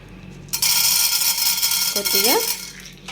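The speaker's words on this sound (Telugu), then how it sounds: "సో ఇప్పుడు మనం ప్యాన్ పెట్టుకొని దాంట్లో మనం ఏం చేయాలి" A cooking pan is set down and handled on the stove while preparing amaranth-leaf (totakura) rice, giving a sharp metallic clatter followed by a steady hiss with brief scraping sweeps near the end.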